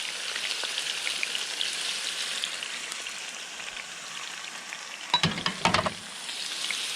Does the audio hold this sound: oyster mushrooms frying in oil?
yes